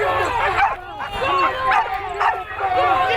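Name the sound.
dogs barking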